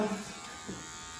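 Electric hair clippers buzz steadily and close by, with a faint shift in tone as they move through hair.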